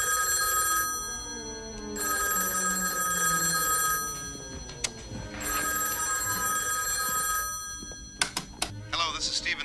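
A telephone rings in loud bursts, one sustained electric ring after another with short gaps between them, and speech and clattering noises come in near the end.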